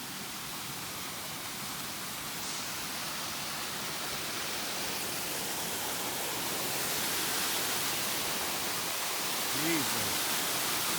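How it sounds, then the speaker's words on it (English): A massive waterfall near Egypt Lake roars as a steady, broadband rush that fills the whole clip at constant loudness, with a brief voice near the end. "That's Egypt Lake and this massive waterfall."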